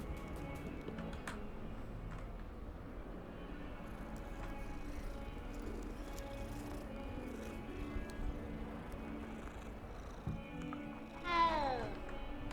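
A cat meows once, briefly, near the end inside the Hogwarts Legacy video game, heard over steady game music and ambience.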